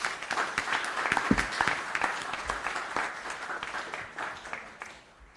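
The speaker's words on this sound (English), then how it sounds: "Yeah, round of applause, and thank you very much." An audience at a forum session claps steadily in a sustained burst of applause, fairly distant, tapering off toward the end.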